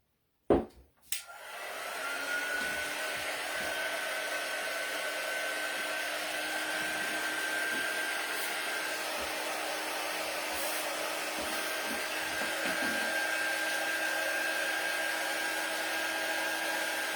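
Hair dryer blowing steadily on painted wooden sign pieces, switched on with a click and a thump, then a constant close whooshing whine that continues unbroken to the end.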